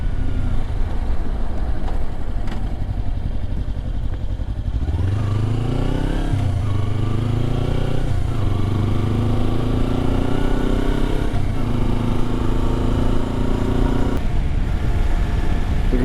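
A Kawasaki Versys 300 motorcycle engine drones steadily while riding off road, loud and close, its pitch climbing through several gear changes without any talk.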